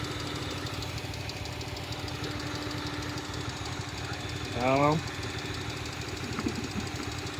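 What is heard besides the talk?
misfiring car engine running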